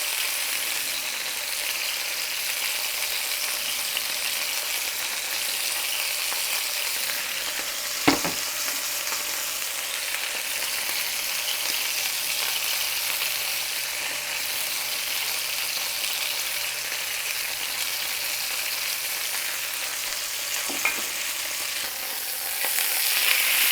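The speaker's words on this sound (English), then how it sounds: "Putting it in a hot skillet." A pot roast sears in a hot skillet, a loud, even hiss that runs unbroken, with a couple of sharp clanks from the pan partway through and no one speaking.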